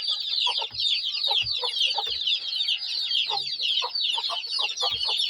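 Dense, high-pitched peeping from many day-old chicks, continuous and overlapping, with occasional soft clucks and pecking taps at feed nearby.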